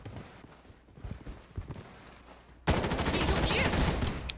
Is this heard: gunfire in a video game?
yes